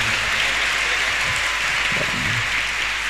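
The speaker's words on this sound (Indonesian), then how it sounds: "beri tepuk tangan untuk pemateri kita pada siang hari ini" An audience at an Islamic history seminar applauds the speaker: dense, steady clapping that holds evenly throughout at moderate volume, with some low background murmur.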